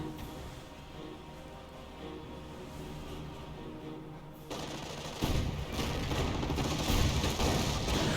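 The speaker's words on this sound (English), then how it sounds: "the rifleman squad will receive a bit of fire there" Gunfire in a Company of Heroes 1 match as a rifleman squad comes under fire, with distant machine-gun rattle and scattered shots that grow louder and denser partway through, all under a steady battlefield din.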